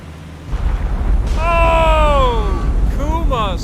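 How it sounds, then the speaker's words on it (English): A ship's magazine explodes in the naval video game War on the Sea, a deep sustained boom and rumble heard under an excited voice exclaiming over it. "Kuma suffers magazine explosion."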